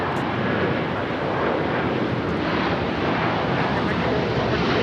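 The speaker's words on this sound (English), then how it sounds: "This is Wamos Air," A Wamos Air Airbus A330-200, operated for LATAM on the 20th anniversary flight to Santiago, takes off from LAX with a loud, steady jet engine roar and wind buffeting throughout.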